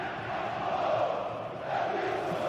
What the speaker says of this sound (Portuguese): Coloca a torcida do Corinthians aí, Cascão.